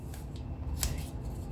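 Pages of a shabby chic paper book are flipped, giving a few quick, close papery swishes and one sharper crisp flick over a low background hiss.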